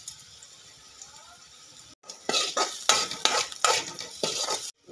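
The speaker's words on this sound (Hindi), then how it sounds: "अब हम इसमें पोहे में हल्दी और नमक मिलाए हैं" Poha mixed with turmeric and salt in a pan, stirred with a utensil: a run of close, loud scraping and clinking strokes in an irregular rhythm after a quieter stretch, with no talking.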